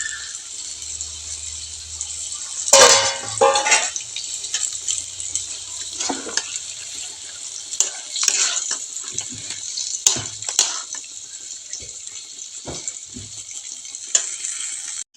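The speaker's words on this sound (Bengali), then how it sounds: "মাংসটা আমি দিয়ে দিচ্ছি এখন।" Chicken pieces frying with spices and potatoes in a pan, a steady close sizzle with scraping and stirring clatters on top, one louder splash and clank early on, and no voices.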